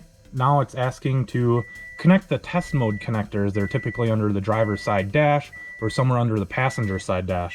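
A Cobb Accessport gives repeated steady electronic beeps at regular intervals while it is installed on the ECU of a 2006 Subaru STi, sounding under continuous close speech.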